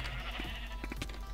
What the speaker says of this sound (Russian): Все, ну-ка, все, возвращаем всех наших овец обратно.